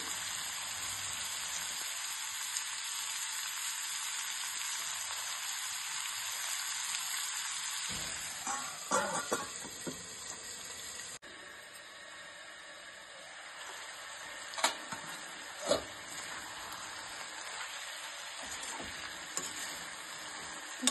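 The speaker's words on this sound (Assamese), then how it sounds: "চিকেনখিনি ফ্ৰাই ধুনীয়াকৈ হৈ গৈছে" Chicken fries in a pan with a continuous hissing sizzle that persists for the whole stretch, close and even, with a couple of brief knocks partway through and no speech.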